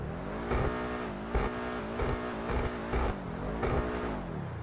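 A sports car engine in GTA 5 Online drones steadily at high revs, with sharp bursts roughly every second, like gear shifts or rev blips, loud and close.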